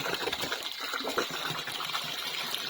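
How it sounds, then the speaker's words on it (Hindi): Water from an overflowing tank pours steadily down onto a path, giving a continuous splashing gush at close range with no voices. "टंकी फुल हुई होगी और पानी पूरा नीचे गिर रहा"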